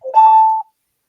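Alert sound effect used as attention music for a supplier alarm: a single bright electronic beep tone that swells briefly and stops after about half a second, followed by silence.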